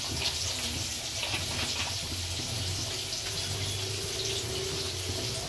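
Water being poured into a simmering cauliflower and potato curry gravy, a steady close splashing rush that runs on without pause.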